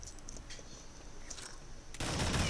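Gunfire in Counter-Strike: soft, scattered shot-like bursts over a steady hiss, then a loud, dense burst of fire starting near the end and carrying on to the close.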